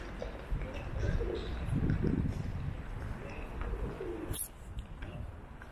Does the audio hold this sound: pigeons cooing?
yes